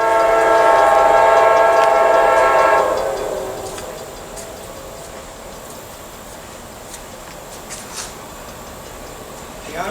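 A train horn blares for a few seconds, then cuts off, leaving the steady rumble and clatter of a one-engine coal train rolling past nearby.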